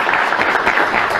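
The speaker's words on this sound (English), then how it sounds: "thank you very much, and big applause" Audience applause at a magic show, a brief burst of loud, close clapping from a crowd.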